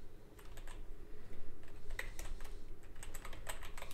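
Typing on a computer keyboard, with quiet, irregular clicks of keys in short bursts and scattered single taps against a faint room hum.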